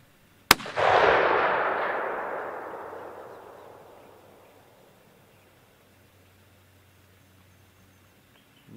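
A single sharp hunting rifle shot cracks out at a target during positional field shooting, followed by a long rolling echo that fades over several seconds into quiet open air.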